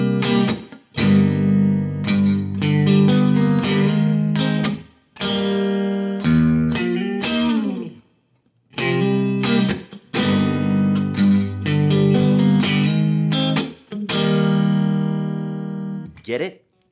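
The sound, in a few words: electric guitar playing a riff with slide and double stop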